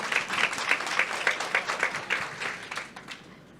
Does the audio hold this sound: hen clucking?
no